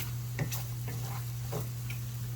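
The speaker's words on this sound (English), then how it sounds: "we're starting to get our bacon crisped up" Bacon crisping in a cast iron pan, a soft continuous sizzle under a low hum with a few light ticks and stirring taps, faint and close.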